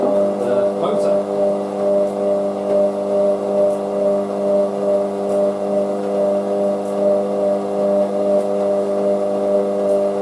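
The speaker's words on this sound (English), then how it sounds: "First intermediate spin, so you'll be able to see what's going on there, and mainly the top moving and how much it moves about when spinning the motor." A Hotpoint Aquarius WM63 washing machine running with its lid off during an intermediate spin, a loud steady motor hum and whir with a slight pulsing wobble, close and continuous.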